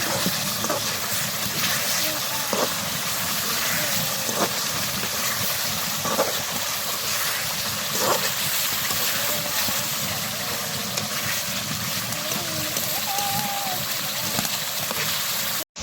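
Fresh fish sautés in hot oil with a continuous, loud, dense sizzle and hiss that runs steadily without pause, and a few faint clinks sound over it.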